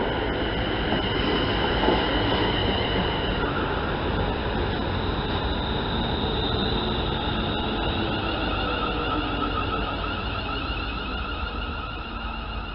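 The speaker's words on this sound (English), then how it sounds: "And about to pass through, we have a fast train." Fast train passing through a suburban railway station near Smethwick Rolfe Street without stopping, a loud sustained roar of wheels and rushing air with faint rail squeal, close by and steady for the whole stretch.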